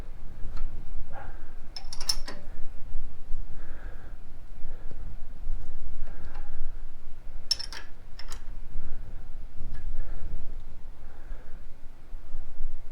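Final tightening of a camlock chuck back plate on an engine lathe, a few sharp metallic clicks and ratcheting ticks spaced apart over a low steady hum, with quiet movement between.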